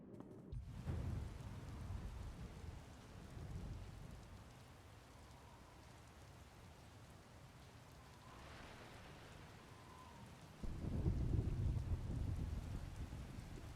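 Steady rain storm falling in a video game, a continuous hiss of rain with low rumbling swells, growing louder and heavier near the end, with no talk.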